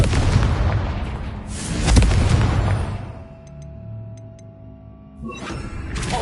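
A booming Confringo spell blast from the Hogwarts Legacy video game hits loudly and decays into a ringing, shimmering tail, followed by another rumbling burst near the end.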